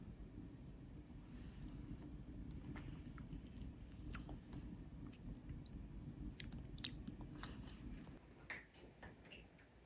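Close, soft chewing and biting while eating tuna gimbap with homemade side dishes, steady over a low rumbling background that drops away near the end.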